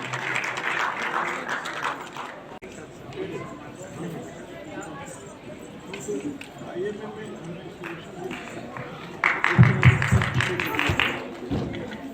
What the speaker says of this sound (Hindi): जोरदार तालियां बजाते हैं।